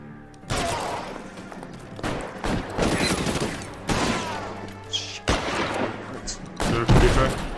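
Bursts of automatic gunfire in L.A. Noire, several sharp volleys separated by short pauses, loud and close, with speech mixed in among the shots.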